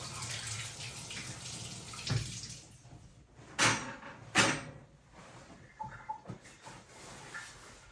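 A vegetable for ratatouille is rinsed under a running kitchen tap, with quiet trickling water broken by a few louder splashes and knocks as it is handled, close and with no speech.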